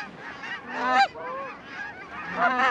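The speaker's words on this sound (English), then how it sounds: "Oh, we have geese in the middle of that." Several geese honk repeatedly in a flock during a North Dakota goose hunt, their calls overlapping at moderate distance with no other sounds prominent.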